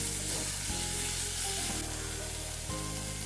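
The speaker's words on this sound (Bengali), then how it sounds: "এবার ওই তেলেই বেগুনগুলো একটু ভেজে নিচ্ছি" Steady oil sizzle of eggplant pieces frying in a pan, loud and continuous, with a couple of brief stirring shifts; no talking.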